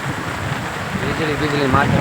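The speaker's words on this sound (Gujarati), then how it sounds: "વરસાદનું અત્યારે વાતાવરણ છે બધું વરસાદ છે" Heavy rain pours down during a storm in a village, a steady broadband wash with gusty wind, close and continuous, and faint voices underneath.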